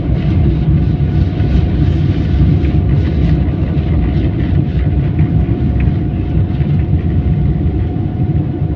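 A propeller airplane takes off at Sylhet Osmani airport, its engines a loud, continuous, unchanging roar heard close by for the whole stretch.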